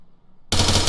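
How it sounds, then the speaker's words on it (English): SDAR rifle fire in a video game begins abruptly halfway through as a loud, sustained burst of rapid shots after a moment of near silence. "the SDAR isn't the most powerful rifle"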